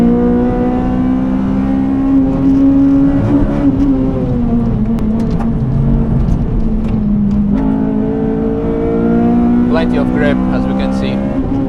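A Honda Civic FD2 Type R engine drones steadily at the Nürburgring, holding a sustained pitch with small rises and dips through the corners as a voice talks over it.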